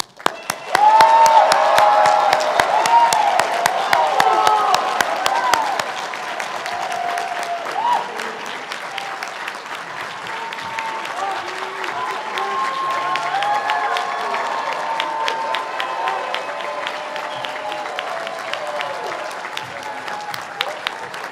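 Audience applause for graduates at a 2021 ATSU-ASHS commencement ceremony: sustained, dense clapping from a large crowd, loudest at the start and then settling to a steady, slightly softer roar for about twenty seconds.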